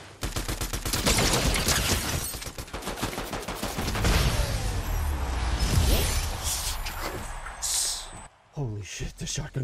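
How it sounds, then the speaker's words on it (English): Shotgun blasts and rapid gunfire in a Fortnite solo match, loud and dense through most of the stretch, with a player talking over the shooting. "the shotgun came in clutch"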